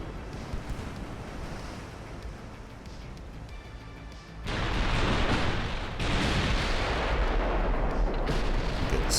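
Secondary naval guns firing in an Ultimate Admiral: Dreadnoughts sea battle, a booming wash of gunfire over wind and surf that swells sharply louder midway and stays dense and heavy.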